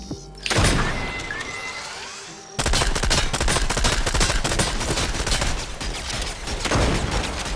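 Turrets trade rapid automatic fire in Fortnite, dense loud bursts of gunshots that run almost continuously after a brief sharp opening volley, with crashing impacts mixed in.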